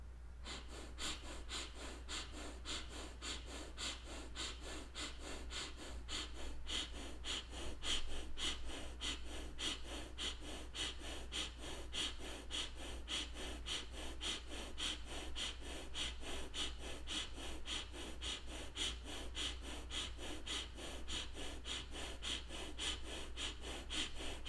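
Quick, rhythmic breaths drawn in and pushed out during a rapid shoulder-shrug exercise to release the trapezius, close and faint, in a steady repeating pattern with no talking.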